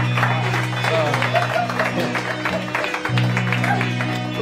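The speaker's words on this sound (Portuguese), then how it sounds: "Aplaudindo de pé, olha isso." An audience rises for a spontaneous standing ovation at a live music show, sustained clapping and crowd noise under steady band tones, with voices talking and calling out over the applause.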